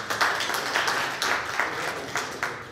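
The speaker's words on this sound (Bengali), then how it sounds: "আমি আপনাদের সবাইকে বলবো ওনাকে করতালি দিয়ে সম্মান জানাই" An audience at a book launch for Abul Kalam Choton claps in honour, a loose patter of hand claps with louder bursts roughly every half second, moderately near and steady for a few seconds.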